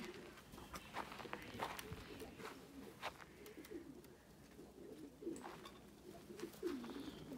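Pigeons coo softly in a loft where young birds are being let out, low throaty calls repeating at a distance, with faint shuffling and wing movement and a quiet voice in the background.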